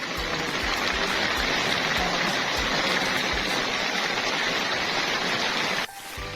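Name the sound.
rain falling in the hills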